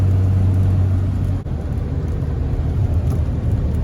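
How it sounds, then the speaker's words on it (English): A truck hauling hay rumbles with a steady, loud low engine drone, broken by a brief dip as the transmission downshifts before the drone resumes. "Watch it downshift."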